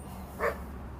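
One dog lets out a single short bark midway through while dogs play, moderately close over a low, steady background hum.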